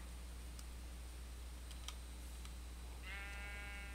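Sheep bleating in the Digimobs video game, a short harmonic bleat arriving near the end after a stretch of faint background hum and scattered clicks.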